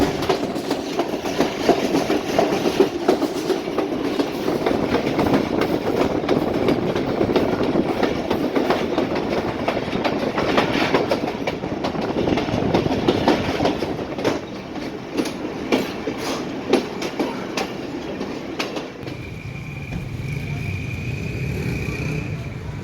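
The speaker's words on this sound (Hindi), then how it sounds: "RG 25125 जो कि 40 down Quetta express Jafar express" The Jaffar Express, Quetta-bound 40 Down, rolls loudly through Sibi Junction in Pakistan with a continuous heavy rumble and rhythmic clickety-clack of wheels over rail joints, easing toward the end as a faint tone rises.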